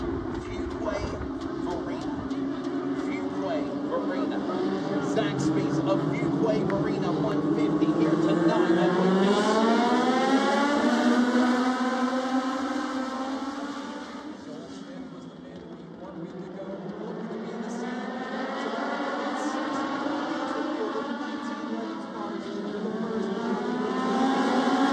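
Race cars lapping at Wake County Speedway, engines droning loudly and continuously with rising and falling revs as the pack passes, under a commentator's voice.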